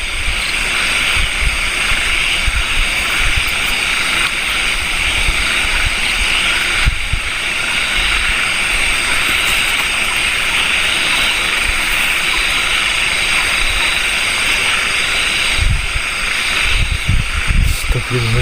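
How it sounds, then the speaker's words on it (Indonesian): Strong wind gusts across a campsite in a loud, continuous rushing roar that buffets and swells unevenly from start to finish. "Tuh anginnya kencang banget."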